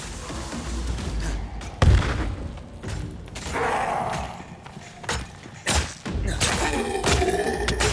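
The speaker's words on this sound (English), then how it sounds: "Oh, bomb!" Bomb blast in the video game Nightingale: loud booming thuds and impacts, the sharpest hit near two seconds, with further bangs and crackling bursts through a busy, noisy fight.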